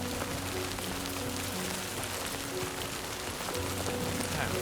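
Downpour in Death Stranding 2 as the terrain opens up, a constant broadband patter of heavy rain hitting surfaces, steady and close, with a faint musical drone below.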